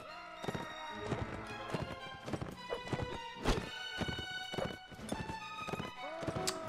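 Horses in the Mount and Blade Warband battle game clip-clop with loud, rapid hoofbeats and occasional neighs amid clashing game sounds, with a voice talking intermittently over them.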